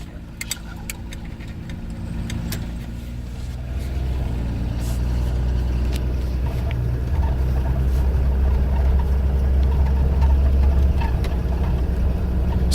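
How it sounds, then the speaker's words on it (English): A 1983 Ford Econoline camper van engine runs steadily, a low close rumble that swells slightly after a few seconds, with light ticking and rattling clicks over it. "Smooth, quiet engine."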